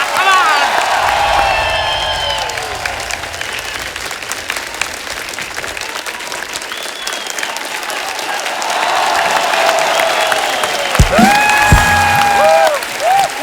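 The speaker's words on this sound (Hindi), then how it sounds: "जोरदार तालियां हो जाए हमारे मेहमानों के लिए" Studio audience at a comedy talk show applauds the guests with sustained loud clapping and cheering that swells near the end, with whoops and music over it.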